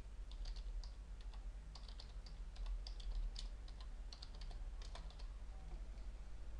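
Steady clicking of keys on a computer keyboard, irregular bursts of taps at close range over a low background hum.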